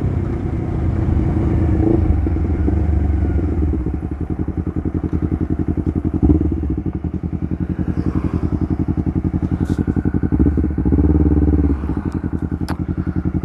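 A Honda CBR250RR motorcycle fitted with an R9 GP series exhaust runs loud and close, a steady throaty drone with a rapid pulsing beat and slight shifts in pitch from changing revs.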